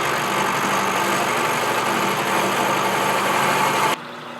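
Milling machine cutting a register into a grinding jig used for Acme thread tooling, a loud, steady mechanical drone with broadband cutting noise that runs continuously, then drops off sharply near the end.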